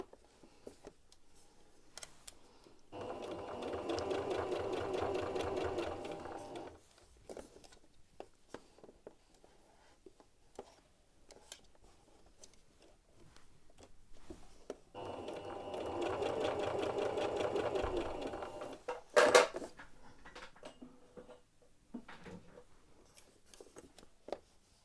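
A sewing machine stitches a T-shirt neck band in two steady whirring bursts of several seconds each, with quiet fabric handling and small clicks in the pauses between.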